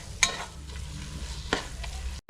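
A spoon scrapes and stirs garam masala and chili powder through hot oil in a pan for mutton biryani, with soft sizzling underneath and two sharp scraping strokes close by.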